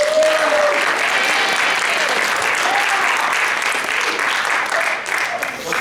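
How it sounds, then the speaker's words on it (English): A lecture class bursts into loud, dense applause that stays strong and continuous before easing slightly near the end, with a few voices mixed in. "Go ahead, loud applause now."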